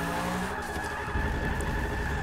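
A 1997 BMW E36 M3 drift build in Forza 6 slides through a corner, its steady engine drone mixed with hissing tire scrub at a constant, fairly loud level, no talking.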